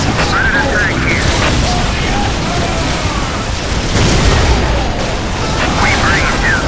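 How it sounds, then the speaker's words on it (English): Grenade explosions and heavy gunfire fill a battle in the strategy game Dawn of War Dark Crusade, a dense, loud, continuous roar of blasts and shooting with unit voice lines in the mix. "Let the grenades fly. Heavy fire!"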